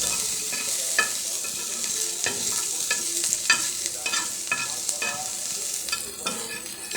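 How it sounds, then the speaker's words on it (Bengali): Ingredients with chilies stirred and fried until reddish in a pan for a roasted eggplant and tomato mash, a steady bright sizzle broken by repeated scraping stirs, close and fairly loud with no talking. "এভাবে আস্তে নেড়ে এগুলো লালচে করে ভেজে নিচ্ছি।"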